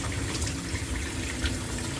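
Tap water runs steadily over red lentils rinsed in a kitchen for Jamaican curry lentil soup, a soft continuous splash and trickle close by.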